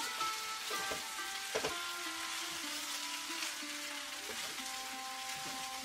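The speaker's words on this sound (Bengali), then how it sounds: "এবার চালটাকে সমস্ত সবজি আর চিকেনের সাথে ভালো করে ভেজে নেব।" Soaked, drained rice being fried with vegetables and chicken in a pot, a faint, steady sizzling hiss with a few light stirring knocks and a low background hum.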